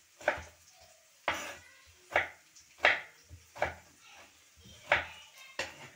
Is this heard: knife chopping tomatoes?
yes